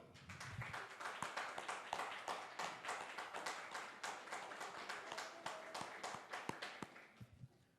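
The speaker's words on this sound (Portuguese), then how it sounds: "Vamos aplaudir o Senhor?" A church congregation at a worship service claps steadily for several seconds, a dense patter of many hands at moderate distance that thins and fades out at the end.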